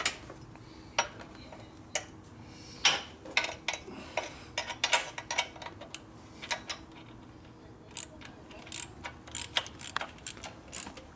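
Wrench tightening a nut on a 1972 Harley Sportster Ironhead motor during a rebuild, with irregular metallic clicks and ticks in quick clusters, close and fairly quiet.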